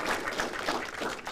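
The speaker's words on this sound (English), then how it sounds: "please give them a round of applause" An audience at a game-industry expert panel session applauds the panelists, a dense, steady wash of many hands clapping at moderate volume with no speech.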